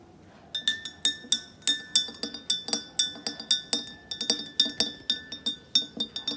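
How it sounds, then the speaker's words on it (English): Rapid, regular clinks of a utensil against a glass of water while vegetable oil is stirred in, bright ringing taps repeating about twice a second, close and clear with no talk. "take another glass of water and put vegetable oil"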